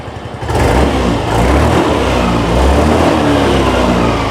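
A Yamaha Grand Filano Hybrid 2021 scooter engine starts up loudly and revs, its droning roar rising and holding steady close by with no talking.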